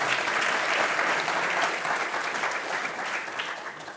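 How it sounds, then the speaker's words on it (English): A conference audience gives a dense, continuous round of applause that holds for several seconds and begins to taper slightly toward the end. "now please, one more round of applause"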